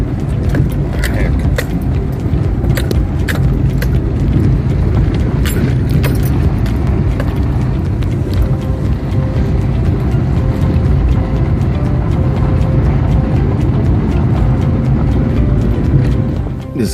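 A car grinding along a rough, rocky off-road track among trees, a constant loud engine and rumble with occasional rattles and knocks from the bumpy ground throughout.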